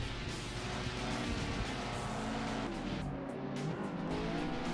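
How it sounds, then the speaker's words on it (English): Toyota MR2 Mark II Turbo with over 250 brake horsepower, racing in Assetto Corsa: a continuous engine drone holding steady at a loud level throughout, with shifting harmonic tones as the revs change. "I'm also driving another great car here, which is the MR2 Mark II Turbo"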